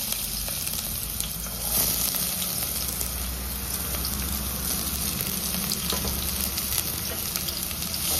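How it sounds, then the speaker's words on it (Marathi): Onion sizzling as it fries in oil, a steady, close crackle and hiss that holds at an even level from start to end with no voices. "तेल घालता थोडे, घालता कांदो"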